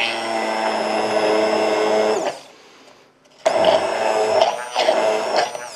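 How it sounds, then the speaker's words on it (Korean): An electric blender grinds apples for juice at speed 3, a loud steady motor whine that cuts out briefly midway, then roars back with fluctuating load. "지금 3단으로 갈고 있어요."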